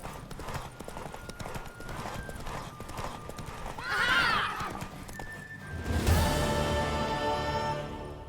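Horse hooves clip-clop steadily during a race in The Witcher 3: Wild Hunt, a loud continuous gallop with a whinny partway through and a crash-like burst near the end, under game music.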